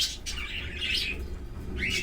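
Bright, high chirps and tweets from lovebirds come in short bursts over a low background hum, close by.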